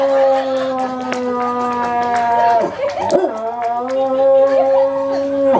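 A performer's voice imitates dogs howling at the full moon during a comic Yakshagana entrance act, with long wavering howls that sustain and bend in pitch, briefly breaking into a rougher cry midway, loud and close.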